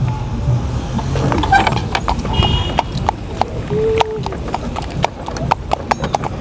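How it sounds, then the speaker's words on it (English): A horse pulling a cart clip-clops steadily along a street in Guyana, its hooves striking in a regular rhythm close by, with street noise and a few voices. "you're on the horse cart"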